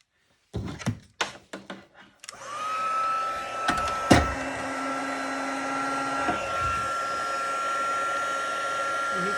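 A heat embossing tool blows hot air with a steady, loud whirring hiss that holds for about seven seconds, after a run of sharp knocks and clatters at the start.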